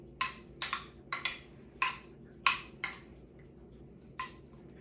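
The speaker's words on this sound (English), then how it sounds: "so I'm gonna mix this all together so that my ingredients are well distributed" A spoon clinks and scrapes against a baking dish while mixing quinoa with pesto, cheese, tomatoes and sauce for a caprese quinoa bake, with about eight sharp clacks in an uneven rhythm, close and fairly quiet, with no talking.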